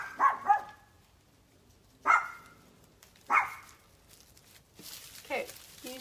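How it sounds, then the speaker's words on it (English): A dog barks indoors: a quick double bark, then two more single barks spaced about a second apart, loud and close, followed by a softer whine-like yip. "My dog, she barks at everything."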